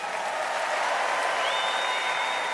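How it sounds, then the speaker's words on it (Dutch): A concert-hall audience at Ahoy claps in a thick, even roar of applause that holds steady from start to finish, with a faint high tone running underneath. "Dat applaus mag nog best wel een keer klinken"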